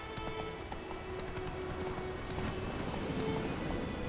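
Roach the horse galloping in The Witcher 3, a quiet rhythmic patter of hoofbeats under a soft rain-like hiss throughout.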